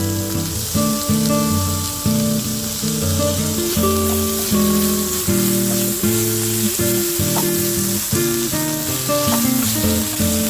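Chopped tomato hitting shallots frying in oil for a Kerala-style prawn roast, a loud steady sizzle with stirring and scraping in the pan throughout.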